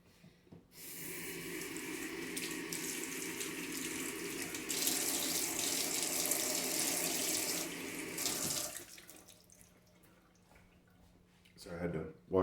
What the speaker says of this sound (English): So I had to wash my hands and reset for the next go around